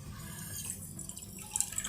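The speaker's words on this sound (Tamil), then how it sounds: "ஒரு 1/2 கப் தண்ணி விட்டு கரைக்கிறேன்." Half a cup of water poured onto sugar in a pan while making almond burfi, a faint, close trickle and light splashing of liquid with small drips, quiet and alone.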